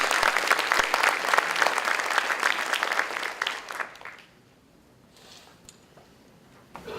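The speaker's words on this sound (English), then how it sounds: "please join me in giving them a round of applause for their achievement" Audience applause at an academic awards ceremony, a dense wash of many hands clapping steadily for about four seconds before fading quickly into a quiet room with faint scattered noise.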